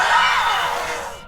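A ghost in the horror game Phasmophobia imitates a banshee's scream: a loud, piercing wail lasting just over a second, gradually tapering off.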